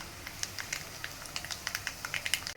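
Garlic crackling and popping as it fries in hot oil while vegetable sambar is made, with a quick, irregular run of sharp, close sizzle ticks and no voices.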